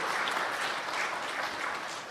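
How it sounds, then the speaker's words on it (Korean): Church congregation during Sunday worship gives a short, steady round of encouraging applause, an even wash of many hands clapping with no speech over it. "한번 격려의 박수 보내주세요."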